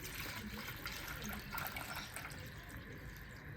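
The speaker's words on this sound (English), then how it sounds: "we're just going to fill the funnel up now" Coolant pours into a funnel on the radiator of a CE Lancer 1.8L (4G93), a faint, steady trickle and gurgle of liquid running without a break and heard at low level.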